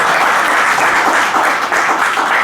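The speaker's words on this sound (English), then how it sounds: "can we give a big round of applause to yourself?" Loud, sustained applause from a workshop audience, a thick unbroken wash of clapping hands with no voices over it.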